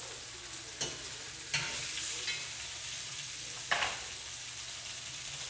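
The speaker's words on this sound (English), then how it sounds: "So just keep tossing it around in your olive oil" Smoked sausage, peppers and onions fry in olive oil in a skillet: a steady, close sizzle with a few sharp scrapes and clacks as the food is tossed around.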